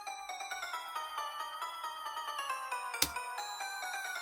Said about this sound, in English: Which you all know, because this is like the typical circus melody.